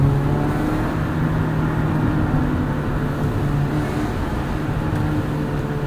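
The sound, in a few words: 1998 Acura Integra GSR sedan accelerating through second gear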